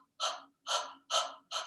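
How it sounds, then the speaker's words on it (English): Rapid, deliberate panting during an exercise breathing demonstration: four sharp, breathy exhalations in quick, fairly even rhythm, close and clear with short silences between. "like you're panting, like you're over breathing"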